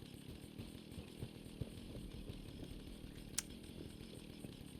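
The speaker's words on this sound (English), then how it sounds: "Let's do our vampire chainsaw." A vampire chainsaw from the Fallout video game runs steadily, a low rough buzzing drone that stays even and moderately quiet throughout, with one brief sharp click partway through.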